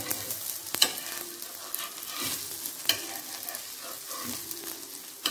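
A chickpea pancake fries in oil in a pan, giving a steady close sizzle with occasional sharp crackles and light scraping, with no talk.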